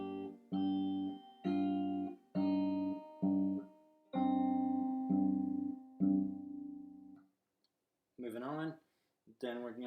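Fingerstyle acoustic guitar plays a slow chunk of a riff on open strings, a handful of plucked notes and chords in a halting rhythm, close and clear, followed by a brief stretch of talking.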